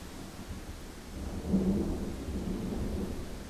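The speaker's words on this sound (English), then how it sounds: "Because it's raining." Rain falls steadily while a low rumble of thunder swells and rolls in the distance, a broad continuous wash of sound with no voices.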